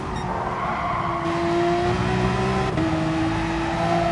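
Race car engine in Gran Turismo Sport at the Red Bull Ring, a loud steady drone rising in pitch as the throttle is fed back on, with a brief dip near the end before climbing again.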